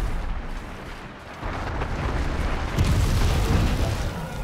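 Booming gunfire from a weapon fired at a monster in Monster Hunter World, a continuous rumbling barrage of heavy blasts with no talk over it.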